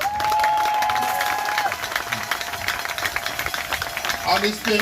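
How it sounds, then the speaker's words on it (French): Audience applause at a gathering about young Congolese, a crowd clapping with some cheering mixed in, fairly dense at first and then thinning into scattered claps, with voices heard over it toward the end. "il mérite un peu plus d'applaudissements"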